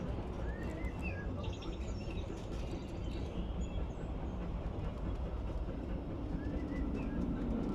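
The Big Thunder Mountain mining train ride at Disneyland produces a steady, continuous rumbling roar of rolling cars, with faint bird chirps scattered above it.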